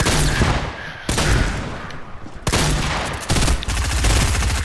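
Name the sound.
gunfire in Fortnite video game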